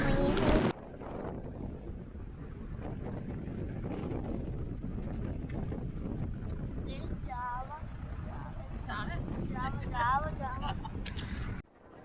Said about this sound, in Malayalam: ഇവിടെ നല്ല കാറ്റുണ്ട് കേട്ടോ